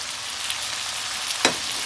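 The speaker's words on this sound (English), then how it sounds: "now we are going to add the bean sprout and the green part of our bok choy" Bean sprouts and the green parts of bok choy sizzle in a pan for a shrimp and chicken chop suey, a soft, steady hiss with one brief sharp crackle near the end.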